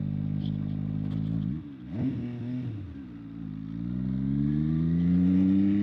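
A V4 motorcycle engine idles, dips briefly as the slipper clutch is let out, then revs up and climbs steadily in pitch, loud and close.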